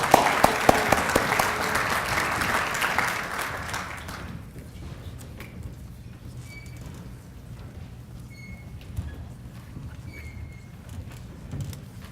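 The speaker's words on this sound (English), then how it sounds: "final round of applause for our regional partnership recipients." Crowd applause at an economic development awards ceremony, loud dense clapping for award recipients for about four seconds, then fading to quiet room tone with scattered faint sounds.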